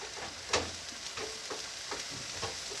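Black beans with paprika, garlic powder and cumin sizzle softly in a pan, with steady low frying hiss and occasional stirring scrapes, quiet and close.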